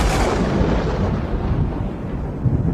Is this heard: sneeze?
no